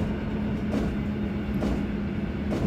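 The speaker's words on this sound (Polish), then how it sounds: "Charakterystyczny dźwięk załączenia się hamulców mi się bardzo podoba w tych pociągach." In the MaSzyna train simulator game, a modernised EN57 electric train brakes while approaching a station, giving a steady rumble of the moving unit with a faint sustained tone and soft hissing surges.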